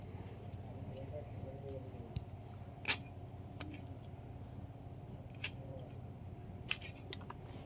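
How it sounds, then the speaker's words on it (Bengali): Small hilsa fish are cut with sharp, sparse snips and clicks, a few louder cuts standing out over a low background hum. "মাছগুলো এবার আমি সব কেটে নেবো"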